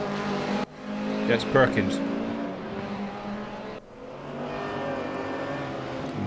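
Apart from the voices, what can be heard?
race cars driving at Suzuka in a racing video game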